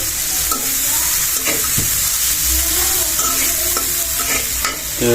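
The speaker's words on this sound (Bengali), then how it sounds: "পেঁয়াজের সাথে মরিচ দেওয়া হলো" Onion and chili frying in a pan for a Bengali baila fish dish, a steady close sizzle running throughout with occasional stirring scrapes and clinks of a utensil, no talking.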